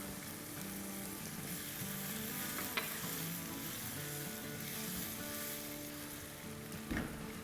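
Sliced onion with half a teaspoon of salt fries in a pan for restaurant-style okra, heard as a quiet, even sizzle with steady stirring and a couple of light utensil clicks.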